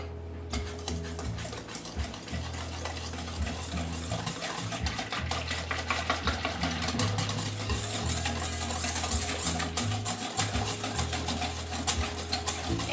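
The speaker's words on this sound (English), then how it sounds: "whisk this with a pudding mix for 2 minutes" Pudding mix whisked by hand for a peanut butter cup pie, a steady close scraping and stirring with fast rhythmic strokes against the bowl, continuous from start to finish with a low hum beneath.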